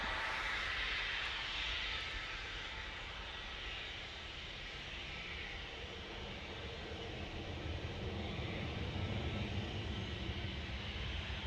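A Boeing 787 Dreamliner jet at Manchester Airport gives off a continuous broad engine roar that holds at an even, moderate loudness for the whole stretch, heard from some distance.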